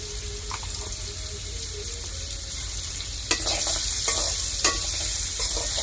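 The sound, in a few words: stirring hilsa fish with vegetables frying in a pan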